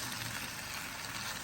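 Rice vermicelli with crispy anchovies frying in a small wok, a steady dense hiss and sizzle with no break, close and even throughout.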